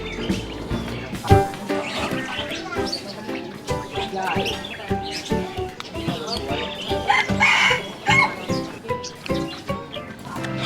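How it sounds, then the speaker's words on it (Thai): Chickens cluck and crow among chirping budgerigars in a leafy garden at a city noodle shop, a busy mix of bird calls rising and falling close by. "มีนกหงหยกมีไก่"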